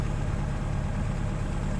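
A Jabiru aircraft engine fitted with Rotec liquid-cooled heads idles steadily, a continuous low rumble that stays even and alone throughout.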